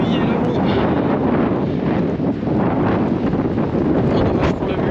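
Gusty wind buffets the microphone in a continuous loud rush on a mountain summit at 1350 metres in the Cévennes, with a hissing wash of rain mixed in; no clear talking.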